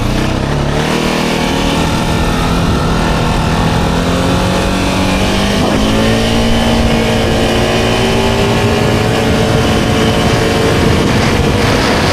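Access 860 supercharged quad bike engine revs steadily and loudly, its pitch climbing gradually with a belt-driven supercharger whine, continuous with no talking.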